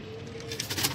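Sialkoti pigeons coo softly in a loft, a steady low murmuring with brighter flutters and rustles building toward the end, with no voices.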